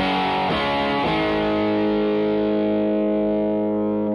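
An electric guitar with a single-coil pickup, played through a Fulltone Custom Shop Ranger boost pedal, rings out a sustained overdriven chord after a couple of quick strums, slowly decaying with a thick, boosted tone.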